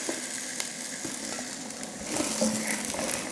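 Onion and garlic sauté in a pan with a continuous bright sizzle that grows louder partway through, along with scraping stir sounds and no speech.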